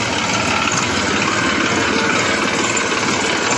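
A New Holland 3032 tractor of about 35 hp idling: a steady, loud, even engine drone with constant rough hiss and no change in pitch, heard alone without talk.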